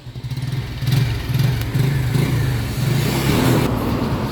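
Rusi Kraken 110 motorcycle running steadily, with a loud, low engine drone and an uneven, pulsing rumble throughout, plus a faint rattling edge consistent with a noisy chain, no talking.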